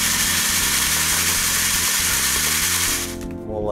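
Gravel and paydirt rattle and churn steadily in a shaken pan or classifier, a loud, dense grinding hiss that runs continuously before abruptly cutting off.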